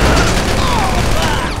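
Gunfire in the video game GTA 5, a loud, dense burst of shots filling the short stretch with steady, close, noisy crackle.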